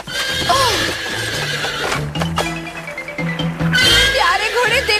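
A horse neighs and whinnies with clip-clopping hooves, set against a music score in a 1996 animated Cinderella episode, with the whinnies loud and near at the start and again near the end.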